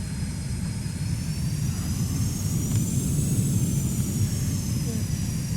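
Jet engine of a Gripen in Microsoft Flight Simulator 2020 with the canopy shut, a steady, muffled low roar with a faint high whine rising and falling over it, under a voice talking.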